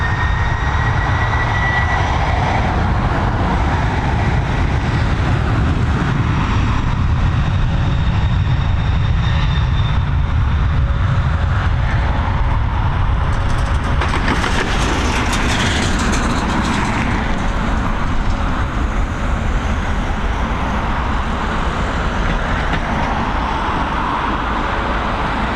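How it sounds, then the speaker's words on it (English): A FedEx Express Boeing 767 departs Dublin Airport with a loud, sustained jet roar that swells and shifts in tone midway, steady and continuous without any speech. "767 operated by FedEx. The world on time. FedEx Express on departure"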